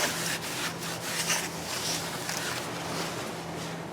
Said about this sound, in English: I'm going to come back and wipe that again with the alcohol one more time